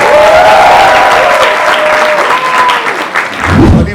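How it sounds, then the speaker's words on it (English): Loud applause for Khushi Kapoor and Junaid Khan, the stars of Lavyapa, a dense burst of clapping that holds steady for several seconds, with a voice carrying over it before it thins out. "So give a big round of applause for Khushi Kapoor and Junaid Khan, the stars of Lavyapa."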